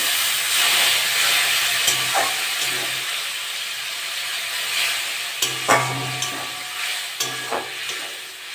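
Spice paste for a silver calf fish curry sautés in oil, giving a continuous close sizzle and hiss broken by several sharp clinks and scrapes of a stirring utensil against the pan.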